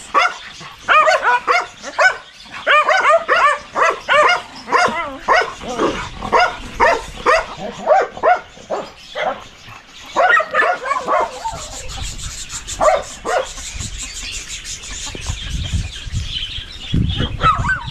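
A dog barks repeatedly in quick, loud bursts close by, followed by rustling and scuffling sounds with a few more scattered barks.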